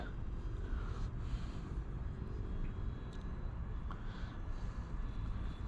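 An E-flite Valiant RC trainer plane running on a 3-cell 2200 battery pack flies outdoors, its electric motor a steady, distant drone blended with wind noise that holds level throughout.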